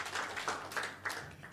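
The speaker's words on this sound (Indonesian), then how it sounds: "Berikan tepuk tangan untuk Tuhan Yesus." Church congregation clapping in praise of Jesus during a sermon, a short run of rhythmic, evenly spaced group claps at moderate volume, with no voices over them.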